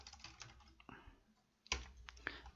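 Keys tapped on a computer keyboard while a command is typed into the Windows 11 command prompt during recovery troubleshooting, a handful of close clicks over a low hum, including one sharper keystroke midway, with no speech.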